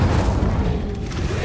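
Incendio fire spell cast in the game Hogwarts Legacy, a loud continuous low booming rumble that roars throughout with a fiery, dense texture and no pause.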